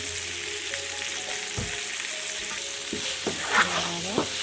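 Capsicum halves and spices stir-fried in a pan with salt, a steady broad sizzle running throughout while a utensil scrapes and taps the pan a few times, close and moderately loud with no talking.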